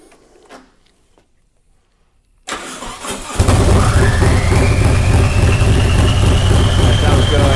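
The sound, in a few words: Harley-Davidson motorcycle engine starting and running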